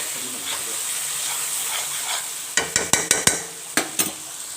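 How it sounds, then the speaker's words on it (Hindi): Chillies fry for mash dal in a pan with a steady sizzling hiss, then a quick run of sharp metallic clinks as a spoon stirs and scrapes, and a couple more taps follow. No one speaks. "उनको मैंने अच्छे तरीके से अब डाल के इसमें फ्राई करना है।"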